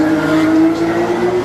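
Porsche race car at the Singapore Grand Prix street circuit, braking hard and downshifting to second gear: a loud, close engine whine holding a strained tonal pitch that shifts slightly, with a rough roar underneath and no pause.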